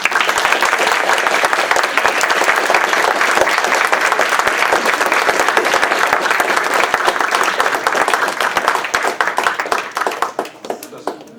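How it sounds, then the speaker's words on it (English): An audience at a live performance gives a sustained round of applause, loud dense clapping that holds steady before thinning out and fading near the end. "please join me in a final round of applause for our wonderful participants, Lenore, Steve, Robert, and Pat."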